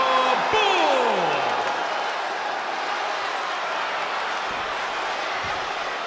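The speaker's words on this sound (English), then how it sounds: "This capacity crowd is waiting with bated breath" Steady roar of an arena crowd in the WWE 2K20 wrestling game, a dense sustained wash of cheering that carries through the whole stretch, with a brief sweeping effect near the start.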